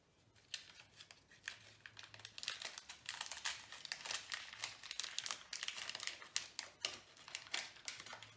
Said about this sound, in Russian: пора открывать 17-й конвертик